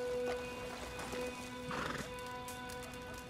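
A horse whinnies in the Red Dead Redemption 2 video game, with hooves clip-clopping beneath the call, a single mid-distance neigh over steady game ambience.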